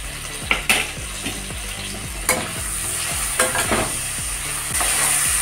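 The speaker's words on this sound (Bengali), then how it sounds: "কাঁচা কলা আর আলুটাকে ভেজে নেব একটু লবণ হলুদ দিয়ে।" Raw banana and potato pieces fry with salt and turmeric in a pan, a steady close sizzle broken by repeated scraping stirs of a metal spatula against the pan.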